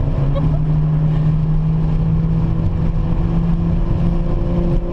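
A Nissan GT-R engine drones steadily while driving on a track, a loud, close, constant low hum with a sustained tone and no clear revving.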